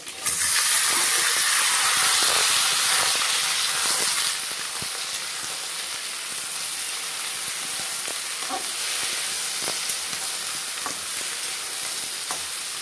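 Vegetables fry with a hilsa fish head in a pan, giving a loud, steady sizzle that drops a notch after about four seconds and keeps hissing, with faint stirring clicks. No one speaks.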